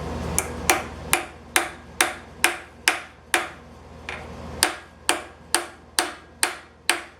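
Repeated hammer whacks drive a part into a Small Block Ford engine, about a dozen sharp ringing metallic hits at a steady pace with one short pause, close and loud, no talk.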